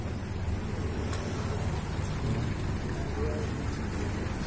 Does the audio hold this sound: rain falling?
yes